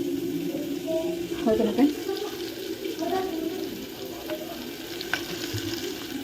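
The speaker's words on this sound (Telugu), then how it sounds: "పచ్చిమిర్చి ఉల్లిగడ్డ ఉల్లిగడ్డ అయితే వేసాను అనమాట ఫ్రై వేయించుకోవాలి" Green chillies and onions frying in a home kitchen pan, a steady sizzle with occasional stirring clatter, heard beneath some background speech.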